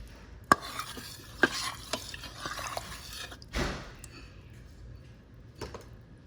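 A spoon stirs crushed cardamom, cumin and dry ginger into a pot of milk, giving sparse wet clinks and scrapes with one longer swish, close and quiet.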